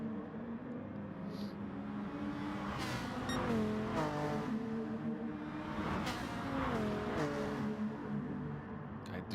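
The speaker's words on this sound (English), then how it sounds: "I do love that Viper and that sound." Dodge Viper race car engine in a racing video game, a continuous loud engine drone with rising and falling revs through shifts, close and dominant, with faint other cars around.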